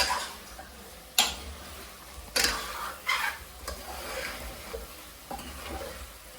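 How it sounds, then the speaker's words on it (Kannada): Pepper chicken coated in spice powder is stirred in a pan over a high flame, with several sharp spatula scrapes and knocks at irregular intervals over a steady frying sizzle, close by and without talk. "ಹಾಕಿದ್ಮೇಲೆ ಹೈ ಫ್ಲೇಮಲ್ಲೇ ಇಟ್ಕೊಳ್ಳಿ, ನೀಟಾಗಿ ಮಿಕ್ಸ್ ಮಾಡ್ಕೊಳ್ಳಿ."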